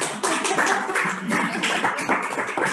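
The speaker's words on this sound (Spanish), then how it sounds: "ahora nos toca el aplauso" Dense, steady applause from an audience fills the whole stretch, loud and continuous, with many hands clapping at once and no talking over it.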